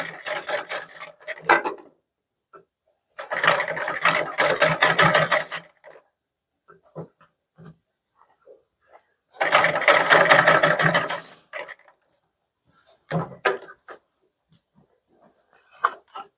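Sewing machine stitching a kurti in two loud, sustained bursts of rapid stitching separated by quiet pauses with faint handling sounds, close by.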